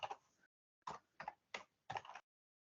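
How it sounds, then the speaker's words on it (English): Quiet, close typing on a computer keyboard: a short burst of clicks, a pause, then four quick key strikes in an uneven rhythm before silence, with no talking. "so I'm typing"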